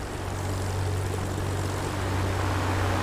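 Bristol Scout WWI propeller plane in DCS World with a steady, droning rotary-style engine hum, loud and continuous throughout with a strong low rumble and no voices.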